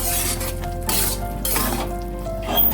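A sweet laddu mixture is stirred in a pan over low gas, a close sizzle broken by repeated scraping and clinking strokes of the spoon.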